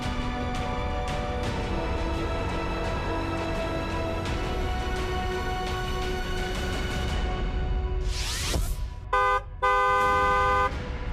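A car horn gives a few short, loud toots near the end, after a steady tonal bed of sound.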